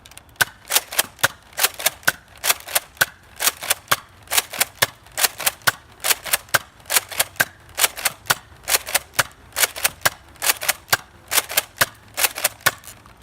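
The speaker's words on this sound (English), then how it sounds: "we're going to be firing at the door, over there, over there about 30-ish feet away" A modified Nerf Tri-Strike pump-action blaster fires foam AccuFake darts from an 18-round magazine at a door about 30 feet away, producing a steady rapid series of sharp snapping shots, each pump-and-fire cycle close and loud.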